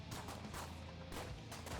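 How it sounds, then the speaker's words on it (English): Gunfire in rapid repeated bursts, faint and somewhat distant, crackles over a steady noisy background with no voices. "you can still hear the sounds of gunfire out front"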